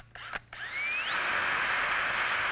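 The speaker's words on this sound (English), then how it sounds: "you have to drill your own holes in order for you to get the pass through for the trim piece" A power drill bores a 7/32-inch hole through a car dash pad for a trim piece: a few short bursts, then the motor whines steadily as its pitch climbs and holds high, loud and close with no talking.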